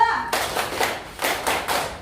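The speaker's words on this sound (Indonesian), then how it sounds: "Tepuk semangat 2." A quick burst of rhythmic group hand clapping fills a classroom: four or so sharp, close, loud clap volleys in a steady pattern for a "tepuk semangat" spirit clap, following a brief voice at the start.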